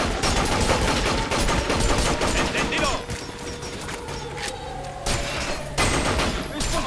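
Gunfire aimed at a surveillance robot in the video game Binary Domain: rapid, loud automatic bursts rattling continuously, with a short lull midway before the firing resumes, mixed with mechanical clanks and impacts.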